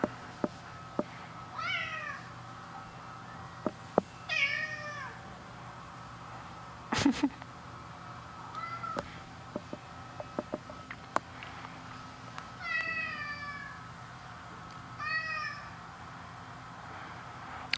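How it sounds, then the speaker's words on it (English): A small cat meows several times in a workshop, the short rising-falling calls arriving in pairs and spread across the stretch over faint background hum, with a few sharp clicks and knocks between them. "Tuco, what do you want, little cat?"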